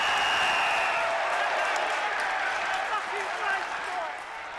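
Polite crowd applause at a West Ham football match, a steady wash of distant clapping across a stadium that fades toward the end, with a commentator talking over it.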